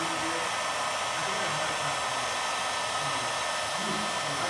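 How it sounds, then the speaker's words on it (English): A heat gun blows steadily at close range while heating a tube for a mechanical engineering project, giving an unbroken, even whoosh of hot air with no talk. "so after this is heated, use the heat gun"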